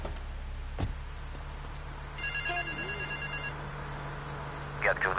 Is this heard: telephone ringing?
yes